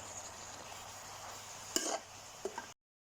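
Shrimp stir-fried with spring onion flowers in a pan: a steady close sizzle, broken near the end by a couple of sharp utensil scrapes against the pan, then an abrupt cut to silence.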